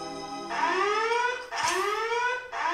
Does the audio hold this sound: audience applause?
no